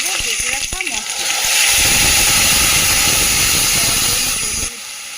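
Ground spice paste hits hot oil for a spicy pabda fish curry, setting off a loud, steady broadband sizzle that swells after a second and holds, with a voice talking over the start.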